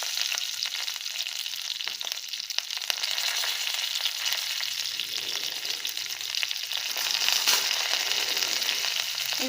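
Dried red chillies and asafoetida sizzle in hot oil as a tempering, a steady, bright crackling hiss close by with occasional faint stirring clicks. The sizzle continues without any talking.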